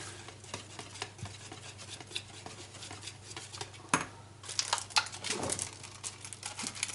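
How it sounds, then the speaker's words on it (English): Mancake batter with butter mixed in being stirred in a bowl, a soft scraping and clinking of a utensil against the bowl with a few louder knocks, faint and close. "So let's get this all mixed in."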